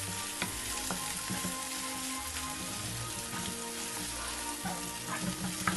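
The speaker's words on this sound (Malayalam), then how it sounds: "അരിഞ്ഞ് വെച്ച സവാള ഇട്ട് കൊടുക്കാം." Sliced onions hiss and crackle steadily in hot oil in a pan for a soybean curry, a dense continuous sizzle broken by occasional sharper pops and faint stirring clicks.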